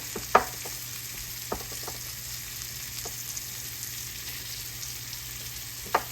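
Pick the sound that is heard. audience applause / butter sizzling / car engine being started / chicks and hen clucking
butter sizzling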